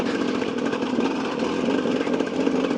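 A KTM 250 EXC enduro motorcycle runs along a rocky trail, its engine giving a continuous, close, raspy buzz with small fluctuations in throttle and no talk.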